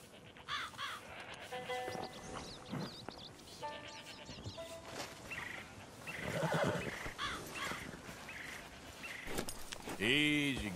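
A horse whinnies loudly near the end amid Red Dead Redemption 2 game ambience, with hoof clops, scattered bird calls and background music tones throughout.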